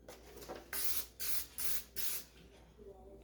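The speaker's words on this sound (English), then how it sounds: "I'm going to spray it with Pam," Four short bursts of Pam non-stick cooking spray onto a pan hiss in quick succession, close and crisp, with quiet room tone between them.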